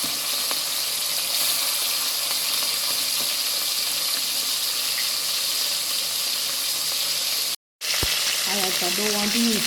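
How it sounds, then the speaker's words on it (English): Oxtail browns in a small amount of oil in a pot, with a loud, continuous close sizzle that drops out for an instant near the end. A voice starts to speak under the sizzle just after the break. "I don't want to use too much oil to brown up my meat"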